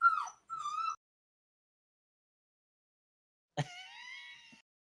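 A dog whines in two short, high-pitched whimpers, a long silent gap, then a longer wavering whine with a sharp onset, all fairly faint and without talk.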